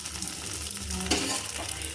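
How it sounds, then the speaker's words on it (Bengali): A flipped petai paratha fries in a pan, giving a steady close sizzle with faint scraping and no talk. "অপর পিঠটা আমি সেঁকে নিচ্ছি"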